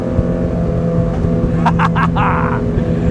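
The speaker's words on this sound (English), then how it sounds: "We'll give it some more power this time. Oh, listen to those motors." Motors of a Fairline F33 boat run under power, producing a loud, steady droning hum with a faint voice briefly rising over it midway.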